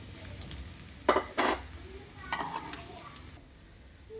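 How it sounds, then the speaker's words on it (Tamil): Boiled cassava pieces are stirred with masala in a frying pan, producing a soft constant sizzle broken by a few short scraping strokes of a spoon against the pan. "நல்லா இது ஒன்றோட ஒன்று மசாலா மிக்ஸ் ஆகிற மாதிரி நல்லா மிக்ஸ் பண்ணிக்கணும்."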